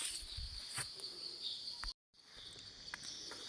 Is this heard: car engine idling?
no